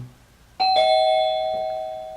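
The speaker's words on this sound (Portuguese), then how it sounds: "Em determinado momento, agora tocava a campainha." Doorbell ringing alone at a lecture: a single ding-dong chime that starts sharply, then a second tone that rings on and slowly fades over quiet background noise.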